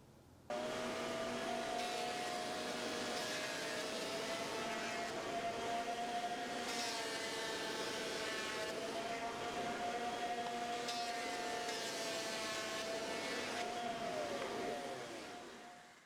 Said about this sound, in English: the dust collector's just eating the sawdust for breakfast